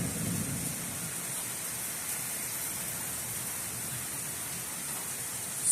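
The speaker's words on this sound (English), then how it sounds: "There's a lot of lightning out here, and there's a lot of thunder." Heavy rain from an outdoor thunderstorm with lightning, a steady dense wash of downpour with a low rumble of thunder underneath, continuous and without talk.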